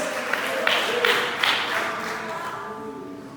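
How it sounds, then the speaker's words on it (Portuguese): Church congregation breaking into applause during a Sunday service, a dense wash of clapping that swells in quick bursts then slowly tapers off, fairly close and filling the room. "Quem crê nisso, dê uma salva de palmas"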